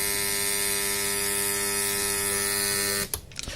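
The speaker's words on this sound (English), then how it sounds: "it's a buzzer. It is a buzzer," A 1980s Teasmade alarm buzzer gives a loud, steady electric buzz for about three seconds, then cuts off abruptly into faint clicks.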